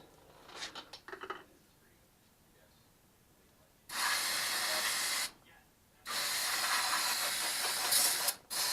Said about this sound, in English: Let me just spray this crap down with some brake clean.